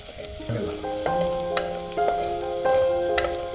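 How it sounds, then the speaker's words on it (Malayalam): Crushed garlic cloves sauté in hot oil in a clay pot, giving a steady close sizzle broken by scraping stir strokes and a few sharp clinks of a utensil against the pot, with no voices. "എണ്ണ ചൂടായി വരുമ്പോൾ 7 ടല്ലി വെളുത്തുള്ളി ചതച്ചത് ചേർത്ത് നന്നായി വഴറ്റി കൊടുക്കാം"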